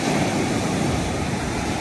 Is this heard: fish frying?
no